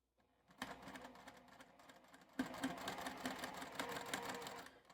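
A sewing machine runs steadily, stitching fabric for a Christmas gift and turning near a quarter-inch seam, with a brief pause before it resumes at an even, continuous hum.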